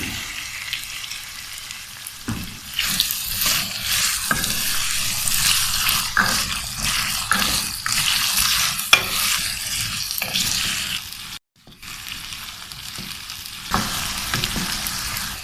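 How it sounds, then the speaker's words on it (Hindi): Diced potatoes sizzle and fry in hot oil with cumin for aloo matar, a steady crackling hiss with brief stirring scrapes throughout and one short gap near the end. "अब हम इसमें डाल देते हैं आलू और आलू को भी अच्छी तरह फ्राई कर लेते हैं।"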